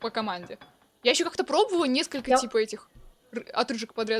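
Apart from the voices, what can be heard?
No everyday noises stand out.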